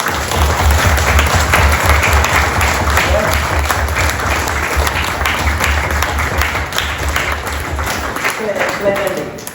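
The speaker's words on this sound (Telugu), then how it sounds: "వాళ్ళకి ఒక్కసారి బిగిన క్లాప్ కొడదామా" A large crowd at a company product launch event breaks into a big, sustained round of applause, dense and loud clapping filling the room with a low hum underneath.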